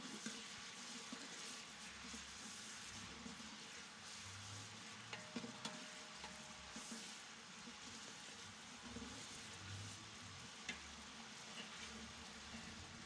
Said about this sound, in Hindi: टमाटरों को आपने तकरीबन 5 मिनट के लिए इस प्याज में पकाना है।